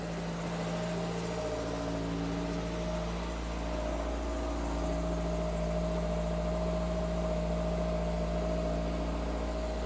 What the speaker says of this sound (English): let's go listen to that 4-cylinder idle from outside